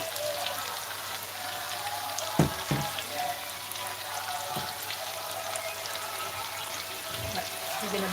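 Sausage sizzles in a pan in a home kitchen, a steady soft crackle and hiss with a few clinks of utensils.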